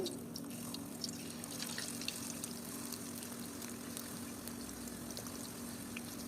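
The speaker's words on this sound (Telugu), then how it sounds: "ఈ చిప్స్ వేగడానికి ఎంతో టైం పట్టదండి చాలా త్వరగా వేగిపోతాయి" Plantain chips deep-frying in a small amount of oil give a steady, quiet, broadband sizzle with faint crackles, continuous and even from start to finish.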